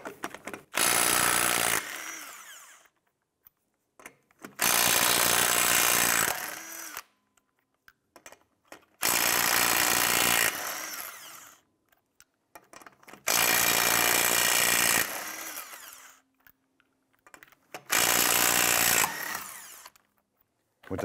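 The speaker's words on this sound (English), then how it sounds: "Using your 19 millimeter socket, loosen and remove the lug nuts." An impact tool with a 19 mm socket loosens lug nuts on a 2005-2007 Ford Five Hundred, heard as five separate loud, close bursts of rapid hammering whir, each lasting about two seconds and separated by short pauses.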